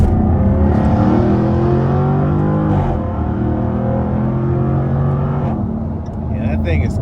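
A 2024 Jaguar F-Type P450 R Dynamic accelerates hard out of a corner, its loud, close engine climbing in pitch through two gear changes, heard from inside the car.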